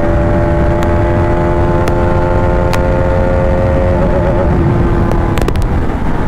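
A Bajaj Pulsar RS200 motorcycle accelerates hard to about 130 km/h. Its engine holds a loud, steady, buzzing drone close to the microphone, with heavy wind rush and a few sharp ticks.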